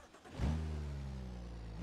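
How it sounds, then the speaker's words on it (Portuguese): Simulated BMW Z4 engine in a driving game, starting low then swelling into a sustained rev with a strong, rising droning tone that holds steady and loud. "Vamos dar uma escutada no motor."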